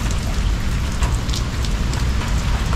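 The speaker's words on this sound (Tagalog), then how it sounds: "habang umuulan" Steady heavy rain pouring down during a morning motorcycle ride, a dense continuous hiss with occasional drops pattering nearby, loud and unbroken.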